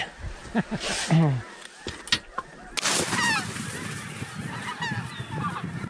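Snow geese honk repeatedly during a waterfowl hunt, a chorus of nasal calls that grows busier after a sharp bang, with hunters talking in between.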